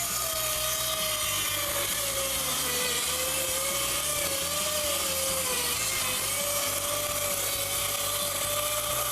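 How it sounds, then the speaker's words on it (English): A circular saw cross-cutting plywood whines steadily and loudly up close, its motor tone wavering slightly as the blade grinds through the sheet for the whole stretch, with no speech. "I just hold the fence right against the edge of the plywood and make the cut."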